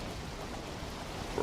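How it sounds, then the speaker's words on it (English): Steady rain in the Valheim game world falls as an even, unbroken hiss of drops, fairly quiet and heard alone. "still got rainy weather"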